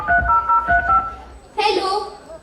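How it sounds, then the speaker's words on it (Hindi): Telephone number dialed in a radio play, a quick run of several electronic keypad tones in an even rhythm, followed by a brighter ringing tone, clear and close with a voice briefly underneath. "अब नारद मुनि को ही कॉल लगाना पड़ेगा"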